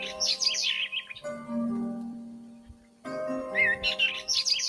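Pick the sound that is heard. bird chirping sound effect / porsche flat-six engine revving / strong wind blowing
bird chirping sound effect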